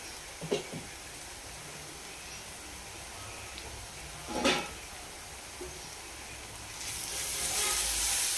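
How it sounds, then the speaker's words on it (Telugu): Onions fry in a pan as the base for a homemade fish curry masala, a low steady sizzle with a few clinks and stirring scrapes, swelling louder near the end, with no voices. "ఉల్లిపాయ వేగింది కదా, ఇలా కొంచెం కలర్ వస్తే బాగుంటుంది ఉల్లిపాయ"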